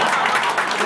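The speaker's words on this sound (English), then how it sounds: "Why don't nobody clap?" An audience at a civil-society forum on elections applauds in a brief, dense burst of clapping, steady and fairly loud throughout with no voices standing out.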